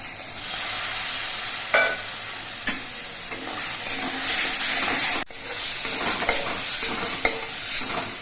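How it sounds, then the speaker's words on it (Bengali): Spices with cumin powder and a splash of water sizzle loudly in a pan for pomfret fish curry, a steady close hiss punctuated by several scraping stirs and spatula knocks. "মশলাগুলো বেশ কিছুক্ষণ সময় কষিয়ে নিয়েছি"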